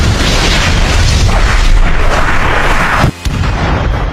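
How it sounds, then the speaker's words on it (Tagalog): A loud, sustained explosion in an anime fight scene, a roaring blast with rumbling low-end debris that fills the whole stretch, cutting out abruptly for a moment near the end before resuming. "At sumabog nga ito"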